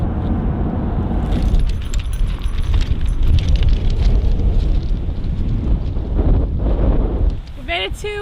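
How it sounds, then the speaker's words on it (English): Strong wind buffets the microphone at Beluga Point on the Seward Highway, a steady loud roaring rush that holds for several seconds before easing near the end. "it is super windy today"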